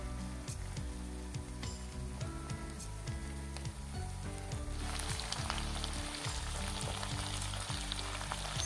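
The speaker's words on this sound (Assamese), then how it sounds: "অলপ সময় মই আকৌ এনেকৈ কৰি ভাজি থাকিম" Tengra fish fries in spiced masala oil in a pan, giving a steady, close, crackling sizzle with occasional light ticks and scrapes as it is turned, and a brighter, busier sizzle in the second half.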